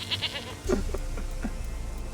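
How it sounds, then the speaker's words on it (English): A goat in The Witcher 3 bleats a few times in short wavering calls, close and clear over a low ambient game background. "Here, goat."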